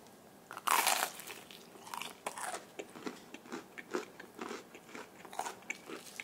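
Crispy fried menbosha shrimp toast is bitten into with a sharp, loud crunch up close, followed by a run of rhythmic crunchy chewing.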